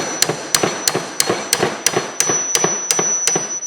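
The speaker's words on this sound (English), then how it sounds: "take a hammer and actually hold it right here" Sharp metallic hammer strikes repeat at a steady pace, about ten blows in quick succession, close and loud with a ringing edge.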